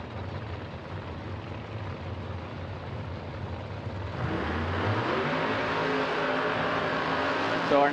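Drag race cars fire up and head for the burnout box at a PDRA event, a broad engine roar that rises and thickens about halfway through into a loud, sustained drone.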